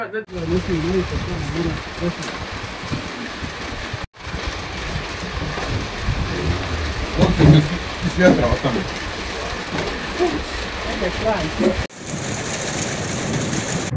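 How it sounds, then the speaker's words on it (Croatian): Steady heavy rain pours down on Šešička mountain, drumming on a surface, with brief breaks in the recording and a rushing wash of noise throughout. "kiša nam je udarla"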